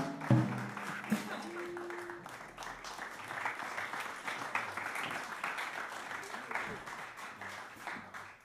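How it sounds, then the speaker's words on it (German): Fairly faint, steady applause from the audience at a jazz workshop's closing concert, a dense wash of clapping from a crowd that continues throughout, with a short tone and voices near the start. "Also es ist doch ein Applaus mal wert für die ganze Truppe"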